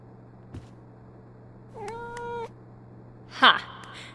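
A cat meows in the video game Life is Strange: True Colors, giving one clear tonal meow followed by a sharper, louder cry, both close over quiet game ambience.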